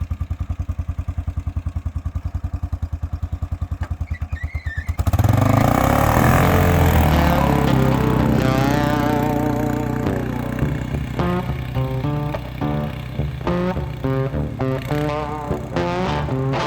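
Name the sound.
2000 Kawasaki Prairie 400 4x4 ATV engine on hot lap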